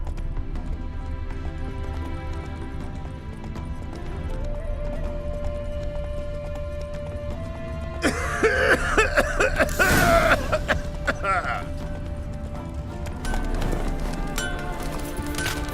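Hooves of Roach, Geralt's horse in The Witcher 3, clip-clop in a steady gait over game music and ambience, with a louder burst of movement partway through.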